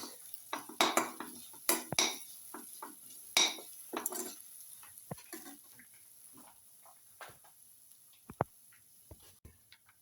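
Curry leaves being stirred into a potato and spice mixture in a pan, with a spoon scraping and clinking against the pot in several quick bursts early on, then a few fainter taps.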